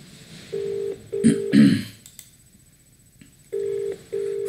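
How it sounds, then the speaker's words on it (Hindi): A phone call being placed, with a short burst of dialing noise followed by repeated steady ringback tones in evenly spaced pairs, clear and alone with no talk. "हुण मैं ओनर नूं फोन डायल करन लग्या"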